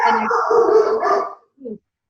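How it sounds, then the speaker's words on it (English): A dog barks repeatedly in the background of an indoor conversation, partly under talk, with a short final bark after a brief pause. "Sorry, that's my dog."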